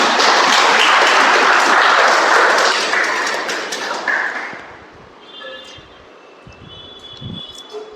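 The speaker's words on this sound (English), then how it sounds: "Let's give a huge round of applause to her and welcome her for her report." Loud, dense applause from a crowd at an Onam meeting fills the first few seconds, then fades out into a quiet room with a few faint taps and a soft tone.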